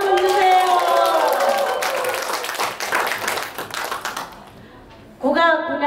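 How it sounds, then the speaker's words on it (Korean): An audience claps at an opening ceremony for a folk-song lecture and fan meeting in the small performance hall of Dobong-gu Community Hall, a burst of applause filling the middle of the clip between stretches of a speaker's voice. "박수 한번 주세요."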